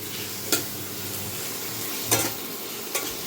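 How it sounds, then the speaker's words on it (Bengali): Onion frying in a pan, a steady close sizzle with three sharp scrapes as it is stirred. "সুন্দর পেঁয়াজটা একটু ভাজা হয়েছে"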